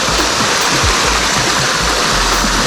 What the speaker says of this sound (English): Waterfall number 1.